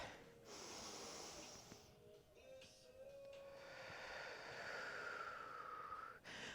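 Slow, deep breathing flows through a yoga sequence, with steady long inhales and exhales audible up close, breath hissing gently over a continuous soft background.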